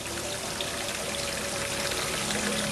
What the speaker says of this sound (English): The sounds of water and birds make for a wonderful chorus